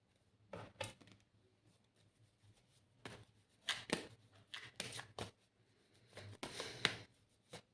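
Playing cards being shuffled and handled indoors, several short papery riffling bursts separated by quiet gaps, close and soft.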